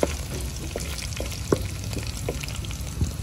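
Pomegranate seeds frying in hot oil for a tadka, a steady close sizzle with small crackles and a few sharper pops scattered throughout.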